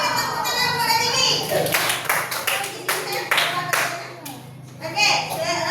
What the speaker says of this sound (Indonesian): Oke, tepuk tangan buat Habibi